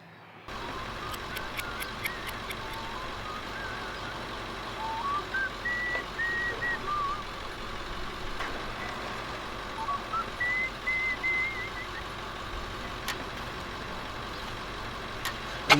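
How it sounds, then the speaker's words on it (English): Antique stationary engines running at a show, a steady mechanical drone with repeated higher whistling tones rising over it and occasional sharp clanks, no talk. "So you'll hear these engines."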